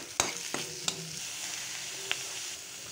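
Fish, boiled potato and chopped onion are stir-fried in hot oil in a pan. A constant sizzle runs under a few sharp scrapes and knocks of the stirring spoon against the pan.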